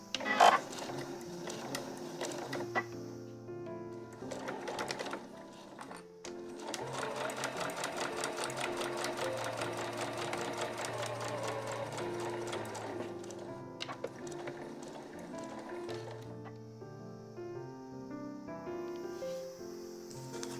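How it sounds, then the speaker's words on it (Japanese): A home sewing machine stitches tatami edging fabric in a steady, rapid mechanical whir. It runs continuously for most of the stretch, with brief pauses and restarts near the start. "家庭用ミシンの場合は押さえの端を使って縫っていきましょう。"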